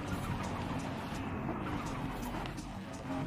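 A 1600 HP Toyota Supra with a 2JZ engine in the racing game Forza Horizon 5, giving a loud, sustained engine roar as it accelerates.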